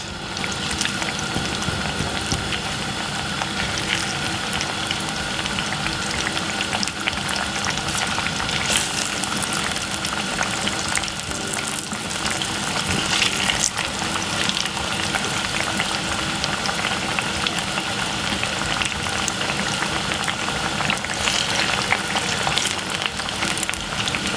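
Jamaican plantain frying in a little oil in a pot, a steady, dense sizzle and crackle that runs loud and unbroken for the whole stretch with no voices over it.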